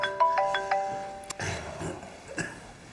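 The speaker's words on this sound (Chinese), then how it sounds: "来个电话。" A mobile phone plays a short melodic ringtone for an incoming call, a few bright chiming notes in quick succession, followed by coughing and background rustle.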